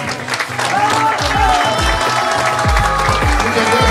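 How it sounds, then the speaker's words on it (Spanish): A crowd at a Teletón event applauds local musicians, loud sustained clapping and some cheering, with low thumping sounds and a brief tonal sweep running underneath. "Así que fuerte el aplauso para"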